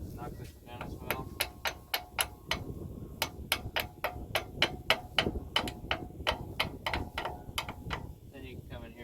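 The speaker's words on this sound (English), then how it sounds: "Now I'm gonna take a hammer, kind of knock this down." A hammer knocks on parts of a hydraulic cylinder on a 1984 Belarus 400A tractor, a rapid run of sharp close metallic taps in uneven bursts, with low background noise and some voice underneath.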